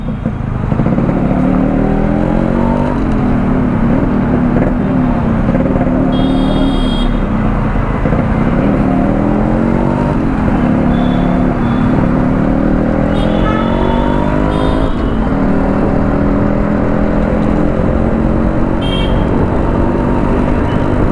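A Yamaha RX100 motorcycle being ridden along New BEL Road, giving a steady, loud engine drone that holds throughout with small rises and falls in pitch, plus road and wind noise.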